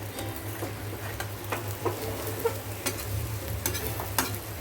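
A cheese omelette frying in a pan gives a soft, steady sizzle with scattered light ticks and scraping taps from turning it, fairly quiet and close, no voices.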